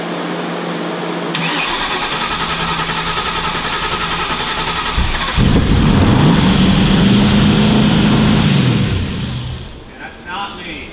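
Ford GT500 engine cranking and catching after a cam swap, starter whir giving way to a loud close idle with rising and falling revs, voices talking over it before it cuts out.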